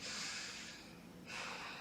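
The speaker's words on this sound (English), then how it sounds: "And we'll take a few more moments of deep breathing." Slow, steady breaths drawn in and out through the nose during a quiet yoga stretch session, two soft airy breath phases heard close and alone.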